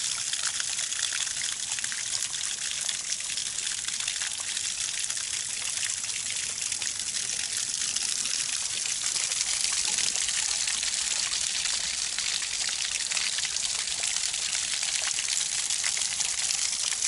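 A small waterfall in the wilderness splashes and trickles steadily, a continuous loud, hissing wash of falling water with no pauses and no voices.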